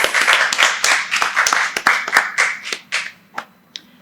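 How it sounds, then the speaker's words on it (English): An audience at an award ceremony claps in a short burst of applause, with crisp individual hand claps close by that thin out and fade to a few last claps. "You should give a round of applause to yourself at this moment."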